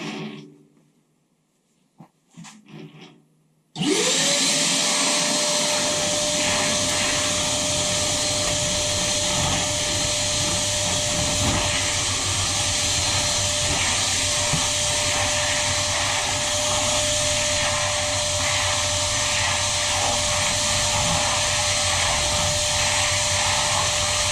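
A Parkside PWD 20 B2 1300 W wet-dry vacuum cleaner starts after a few seconds of quiet handling noise, then runs loud and steady with a constant whine until the end.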